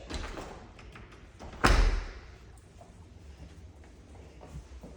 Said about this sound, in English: make sure all the doors latch